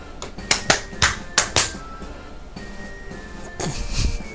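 A person claps the rhythm of a theme song by hand, giving a syncopated run of six sharp, close claps followed by a quieter pause and a few softer claps with faint background noise.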